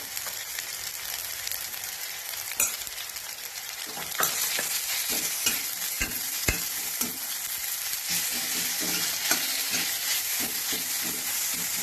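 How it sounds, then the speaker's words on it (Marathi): Ginger garlic paste sizzles in a pan, a steady bright frying hiss with occasional sharp crackles and pops, close and fairly quiet, no voices. "जरा छान असं परतून घेऊया दोन मिनिट आलं लसूण घ्यायची पेस्ट टाकणार आहोत"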